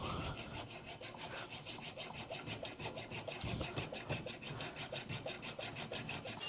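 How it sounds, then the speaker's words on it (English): Steady, rhythmic rasping of a hacksaw cutting through a metal bolt held in a vise, with quick back-and-forth strokes repeating evenly throughout and no voices. "then hacksaw it using the bits you're cutting off in the vise"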